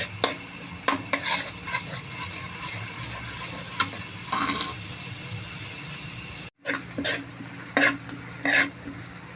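Garlic and onions fry in a pan with a constant close sizzle, punctuated by repeated stirring scrapes and clinks against the pan, with a brief cut near the middle.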